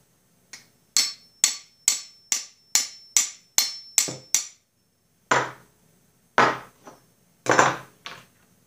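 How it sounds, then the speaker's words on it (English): Metal taps ring out as a spindle part on a Snapper mower is driven in with a socket, about nine quick, evenly spaced close strikes followed by a few slower, louder knocks after a pause. "And you can tap it in with a socket."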